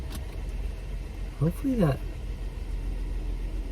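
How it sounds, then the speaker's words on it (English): Steady road and engine rumble from inside a car driving with the windows down, a continuous low wash of noise under a short spoken word. "the car is not too loud with the windows down"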